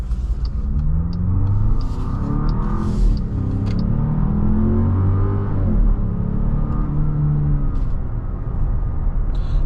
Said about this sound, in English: really strong acceleration out of this vehicle, which is great on the highway as well